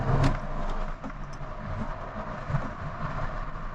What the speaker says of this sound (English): I don't know if you can hear the sound of this car, but it does sound really nice